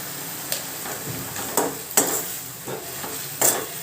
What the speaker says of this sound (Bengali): এই মশলাটাকে দশ মিনিট কষিয়ে নেবো